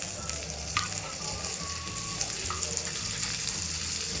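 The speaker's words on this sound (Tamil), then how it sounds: "அதே கடாயில் கொஞ்சம் பட்டர் சேர்த்துக்கலாம்" Butter sizzles steadily as it melts in a hot kadai that held butter chicken masala ingredients, a continuous close frying hiss with small crackles and a faint stir or clink.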